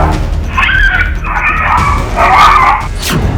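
Two dogs confronting a leopard bark, yip and whimper in tense bursts over loud, rumbling outdoor noise, close and strained, with no talking.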